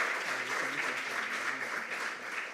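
Faint, steady applause from a school audience at a quiz competition after a correct answer, a soft wash of clapping with a murmur of voices beneath.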